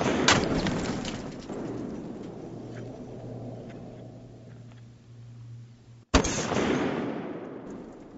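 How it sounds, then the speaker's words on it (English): A Barrett M82 .50 caliber semi-automatic sniper rifle fires one loud, sharp blast that opens into a long rolling echo, followed by a second booming shot near the end, outdoors with no talking. "it's been pretty fun shooting the Barrett on this episode"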